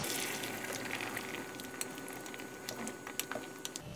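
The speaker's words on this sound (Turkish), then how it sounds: "Kavrulan patateslerimize su ekliyorum." Water poured onto frying potatoes in a pot makes a soft, steady bubbling and pattering sizzle, with a few sharper crackles and pops near the end.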